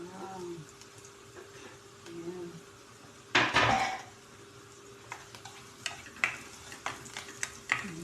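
Onion and garlic fry in a pan while a utensil stirs them, with a soft sizzle under loud scraping and clattering bursts of metal against the pan that come in irregular knocks.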